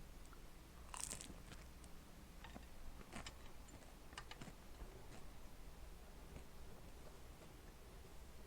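Someone eating homemade dumplings, with soft intermittent bites and chewing clicks close to the mic, quiet and spread over several seconds with no talking.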